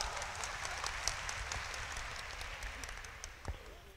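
Applause from participants at a citizens' round table meeting, a steady, moderately faint patter of many hands clapping across a large room for a few seconds.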